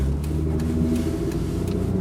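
A 2003 Mitsubishi Eclipse carries a steady, dense low rumble of engine and road noise from inside the cabin, smooth and continuous throughout with no voices.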